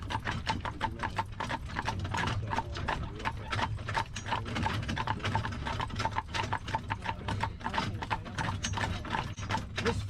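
A horse pulling a buggy across a covered bridge clip-clops in a steady, continuous rhythm of hoof strikes, close and clear, with faint rattling of the wheels and harness underneath.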